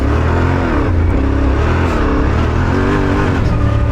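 A 2025 Yamaha Tenere 700 Rally adventure motorcycle engine revs hard and loud up close in sports mode as it climbs a slope with the rear wheel spinning for traction, its pitch rising and falling in continuous surges.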